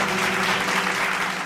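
A church congregation at a Tamil Bible study applauds in a dense, steady burst of hand clapping that fills the room evenly for the whole short moment.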